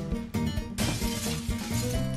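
Glass shatters in the Happy Wheels video game, a bright crash with tinkling shards that repeats in a busy, choppy burst over rhythmic game sounds.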